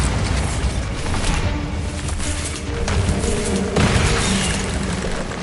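A Bombarda blasting spell goes off in Hogwarts Legacy, a loud booming explosion with dense rumbling debris that keeps roaring steadily, with a second heavy burst near the end.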